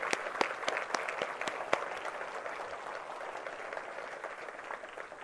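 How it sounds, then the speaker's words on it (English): Audience applauding essential and frontline workers at a community gathering, a sustained wash of clapping with a few sharp louder claps standing out early, steady throughout and at moderate distance. "let us give them a round of applause in appreciation of their hard work"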